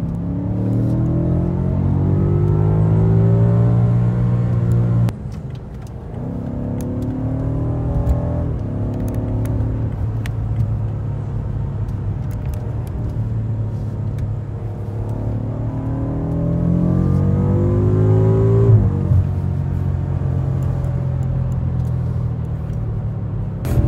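A new BMW M5 accelerates hard, its engine note climbing in repeated rising sweeps with a deep rumble as the car pulls through the gears, loud and steady with no talk.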